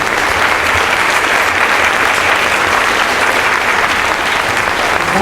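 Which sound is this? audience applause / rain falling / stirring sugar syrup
audience applause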